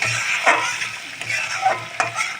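Masala paste thinned with a little water cooks in a pan for a chana aloo curry, giving a soft continuous sizzle with a few spoon scrapes from stirring, close up and with no voices.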